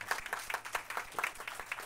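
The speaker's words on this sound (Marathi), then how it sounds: "टाळ्या घेऊया" Audience applause at a book launch, a dense wash of many hands clapping steadily for about two seconds with soft rhythmic peaks, moderately distant and without talk.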